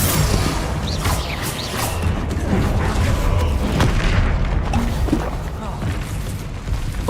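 Repeated Bombarda spell blasts from the video game Hogwarts Legacy, booming explosions and crashing impacts layered in a dense, loud, continuous battle mix with whooshing spell sounds throughout.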